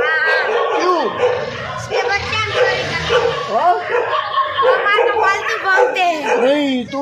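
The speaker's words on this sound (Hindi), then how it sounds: "कुत्ते तुम्हारे ऊपर बोल रहे क्यों?" Small dogs yip, bark and whimper in repeated short bursts at close range, mixed with a person's talk and a chuckle during a morning outing.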